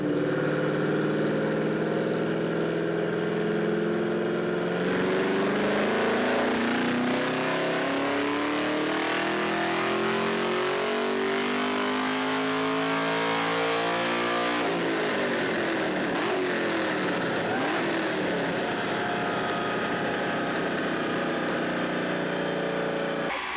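A GPI SS3 Camaro's engine revs hard on a dyno: a loud, close roar climbs steadily in pitch through two long full-throttle pulls, the second ending in a rough, crackling drop-off.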